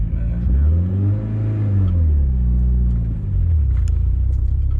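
A Mitsubishi Lancer Evo 9 running on ethanol cranks and starts hard while hot, then revs up and settles into a loud, close engine rumble that builds again toward the end.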